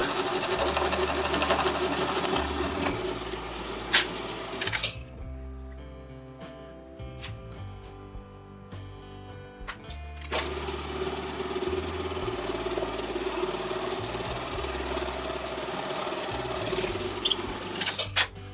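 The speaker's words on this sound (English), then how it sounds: "I like to enter very slowly so that the wings on the brad point bit can cut rather than tear." A drill fitted with a brad point bit bores holes for an Aggravation travel game board, giving a close, steady motor whine that drops to a lower hum midway and then rises to full speed again.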